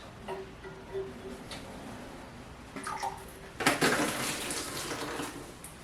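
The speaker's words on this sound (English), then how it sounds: "I'm going to get in here with a large sponge, soak up the water, dump it in the bucket" Water is wrung from a large sponge into a bucket while a toilet tank is being drained, giving soft trickles and drips followed by a louder burst of splashing water, close up and with no talking.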